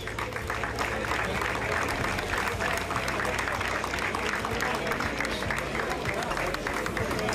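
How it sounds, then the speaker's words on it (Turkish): Audience applause at a sailing race award ceremony as an official is invited to the podium, a continuous moderate clapping texture heard from some distance, with faint crowd murmur and a low hum beneath. "Kendisini de kürsüye davet edip lütfen çok alkışlıyoruz."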